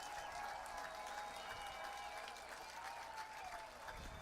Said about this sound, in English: The crowd is on their feet here at Van Andel Stadium.